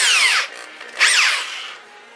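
A power drill bores holes into wood for a brewing bench, two close, loud bursts whose pitch slides as the bit bites and spins, separated by a short pause and trailing off at the end.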